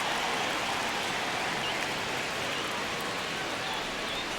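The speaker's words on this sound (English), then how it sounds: "Crowd locked in right now." Stadium crowd noise in the baseball video game MLB The Show 26, Cubs against Diamondbacks in the ninth inning of a one-run game: a steady, dense roar holding level throughout with no distinct voices.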